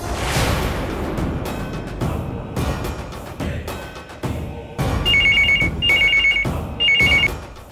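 A telephone rings in repeated electronic trills, loud and close, after a stretch of rustling and knocking noises.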